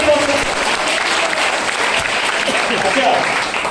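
Audience applause fills a talk about health products at a sales meeting, with a steady wash of clapping throughout and no gaps, loud and close.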